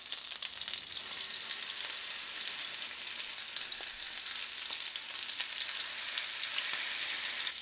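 Filet mignon steak searing in grapeseed oil and unsalted butter, a steady loud sizzle and crackle of frying that holds evenly throughout, with faint pops and no talking.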